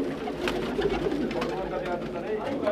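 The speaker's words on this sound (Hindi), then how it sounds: "ये इनके नए रंगीन और मिक्स कबूतर हैं।" Pigeons coo steadily inside a fancier's loft of colourful mixed and Qasid birds, a dense continuous murmur with speech running over it throughout.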